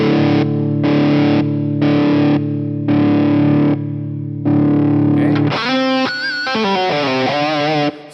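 Electric guitar played through a Fractal modeled Mesa Mark IIc+ amp with a compressor, loud distorted sustained chords struck in several separate blocks, then a run of bending, singing lead notes with long sustain.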